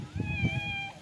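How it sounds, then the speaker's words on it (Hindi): A cat gives one drawn-out, close meow with a rising then falling tone, heard on a small home farm kept with goats and a dog, over faint low background rumble. "ये मानो बिल्ली भी आ गई है"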